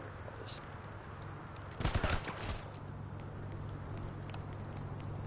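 Video game gunfire bursts out in a rapid cluster of close shots near the middle, over a steady background hum.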